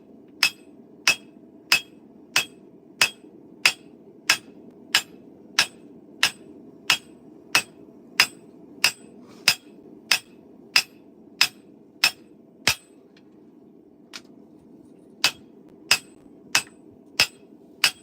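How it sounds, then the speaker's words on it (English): A large hammer strikes metal in evenly spaced, sharp ringing blows, about twenty-five loud close impacts in steady rhythm with one short pause, over a low background hum. "You got to swing a large hammer energetically."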